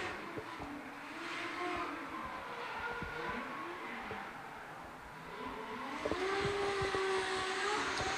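A drift car runs at a D1NZ Pro Championship qualifying event at Baypark Stadium, its engine droning and revving at a distance under crowd and arena ambience, rising toward the end.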